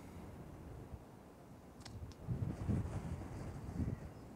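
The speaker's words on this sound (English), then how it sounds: "This wind is very annoying." Wind buffets a camera microphone outdoors, a faint low rumble that swells and gusts louder in the second half, with a couple of brief higher rattles mixed in.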